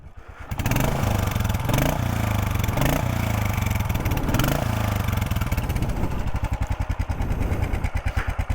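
Single-cylinder thumper motorcycle engine idling close by, a loud, steady low pulsing chug with a brief rev change near the end, no talking.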